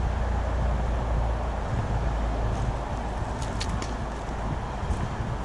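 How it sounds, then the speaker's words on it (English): Steady roadway rumble from vehicles passing on Highway 80 near the Truckee River, a continuous loud low drone with wind-like hiss and no breaks, heard alone. "Sorry about the noise of the vehicles, but like I said, that's the Highway 80."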